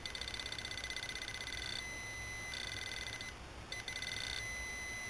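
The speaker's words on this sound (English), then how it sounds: "I did get a little bit of that epoxy inside that little speaker, the buzzer, so to speak" A Garrett Pro-Pointer metal detector, its small speaker partly clogged with epoxy, gives a faint, thin, high-pitched buzzing tone that sounds steadily, breaks off, resumes, and cuts out briefly again before returning.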